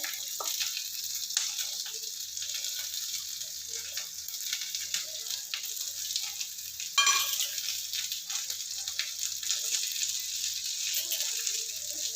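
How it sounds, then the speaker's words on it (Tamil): Green chillies and ginger fry in a pan with a steady, moderate sizzle, broken by faint stirring scrapes and one brief louder burst midway. "பச்சை மிளகாய் போட்டுருந்துடலாம் இஞ்சியும் போட்டுக்கிறேன்"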